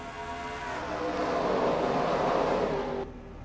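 A pack of NASCAR Truck Series trucks racing at Talladega roars past in a broad, swelling engine drone that builds, holds steady and cuts off abruptly near the end.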